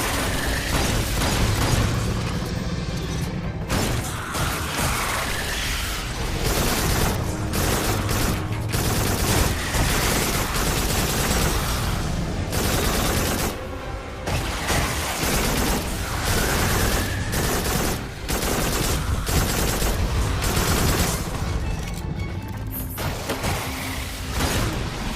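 Dense, loud gunfire from a first-person shooter on PlayStation VR, played with a rifle-shaped aim controller: rapid automatic bursts and explosions rattle almost without pause.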